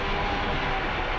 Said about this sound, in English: That is the prop spinning, so we need to go and feather it.